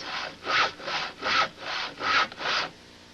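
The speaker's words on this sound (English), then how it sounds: "A saw." A hand saw rasps back and forth through wood in seven steady strokes, close and fairly loud, with no voices.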